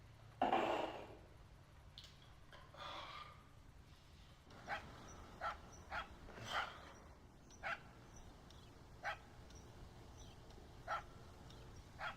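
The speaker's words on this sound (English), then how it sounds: "Damn dog." A dog barks repeatedly in a video game, one burst near the start followed by about eight evenly spaced, moderately faint barks over steady low background noise.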